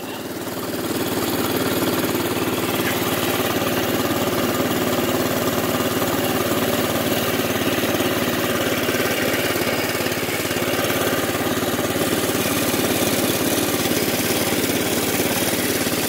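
A newly built ride idles steadily nearby, its engine holding a constant, rough mid-range drone for the whole stretch with no revving or talk.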